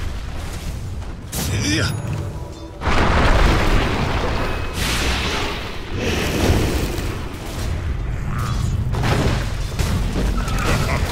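A tower in Dota 2 comes under attack, with repeated booming blasts and explosive bursts layered over a dense wash of game effects, while a voice is heard briefly.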